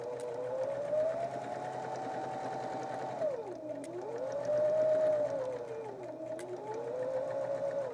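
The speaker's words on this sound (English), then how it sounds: "Now we're going to run this guy through the machine." A sewing machine stitches a log cabin quilt square, a close, steady mechanical whir that dips in pitch as it slows and speeds up, running almost without pause.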